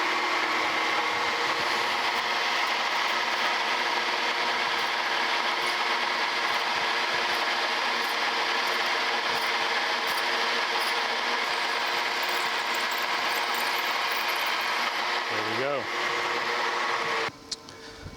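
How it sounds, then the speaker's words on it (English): A milling machine drills a hole through steel with a loud, steady mechanical whir and grinding hum that runs unbroken for most of the clip, then cuts off abruptly near the end. "We're going to drill a hole through here"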